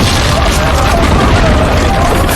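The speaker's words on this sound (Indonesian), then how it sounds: "terjadilah ledakan hebat dan menghancurkan seisi kantor" A loud, dense rumbling blast fills the whole moment, heavy and sustained with a roaring, crackling texture.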